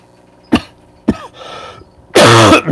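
A person coughs three times: two short, sharp coughs close together, then a pause and a longer, louder throaty cough, all close to the microphone in a quiet room.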